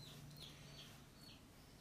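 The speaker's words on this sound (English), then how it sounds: "those chickens are really squawking" Chickens squawking faintly in the background, with several short high calls scattered over a quiet indoor hum and no talk.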